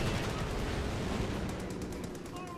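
Mortar and heavy machine gun fire in Company of Heroes 2 battle, a dense continuous wash of distant gunfire and rumbling blasts with rapid bursts layered over it, steady and fairly loud throughout.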